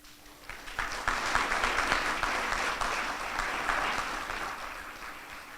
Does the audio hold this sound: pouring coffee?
no